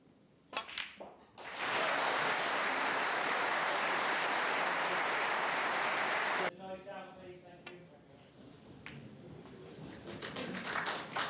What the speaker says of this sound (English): That applause you just heard.